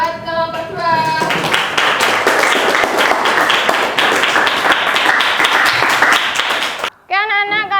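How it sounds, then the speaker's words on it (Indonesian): A classroom audience gives a student group a lively round of clapping, dense and even for several seconds. A voice speaks briefly before the clapping and again right after it ends. "Silakan kasih tepuk tangan buat kelompok 2."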